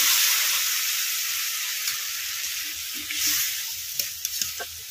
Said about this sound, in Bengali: এর মধ্যে এবারে অল্প একটু জল দিয়ে দেবো।